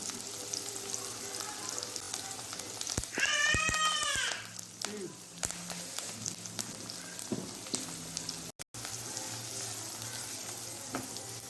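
Onions, green chilies and curry leaves fry in hot oil in a kadai for an Andhra-style prawn curry, giving a steady, close sizzle with light stirring and a brief higher tonal cry partway through.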